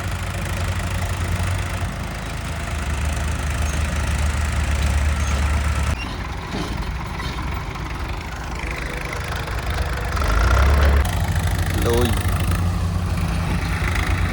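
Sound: tractor engine idling

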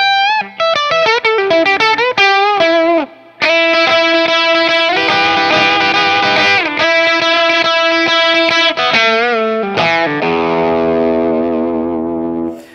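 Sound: Schecter Ultra III electric guitar, bridge pickup with overdrive

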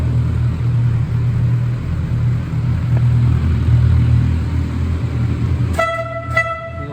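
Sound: motorcycle horn honking

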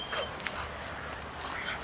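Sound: dog whimpering

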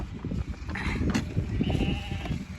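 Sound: sheep bleating

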